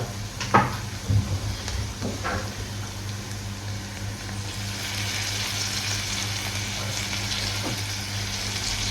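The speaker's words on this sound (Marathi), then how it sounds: "टोमॅटो घेतलेले बघता आता याला नीट परतून घेऊया मिक्स करूया" Chopped tomatoes sizzle steadily in a pan as they are sautéed for an oyster gravy. The close, continuous frying hiss sits under a few light clinks and stirring knocks near the start.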